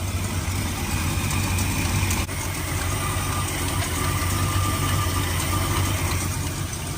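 A Mopar barn-find car engine idles steadily with a low, even rumble, close and continuous throughout, with no voices.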